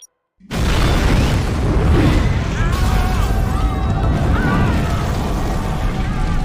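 After a brief silence, a loud explosion bursts in and rolls on as a dense, roaring rumble with debris and scattered high whines.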